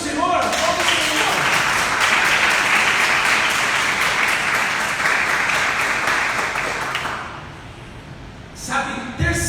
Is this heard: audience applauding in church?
yes